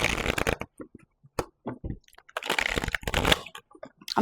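Crisp, irregular bursts of tarot cards riffling and slapping together, several quick shuffles with short pauses between, close and fairly loud.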